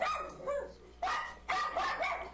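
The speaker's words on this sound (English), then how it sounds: "My two dogs be going crazy, bruh." Two dogs barking excitedly at home, several sharp loud barks in quick bursts with a short whimper between them, close by.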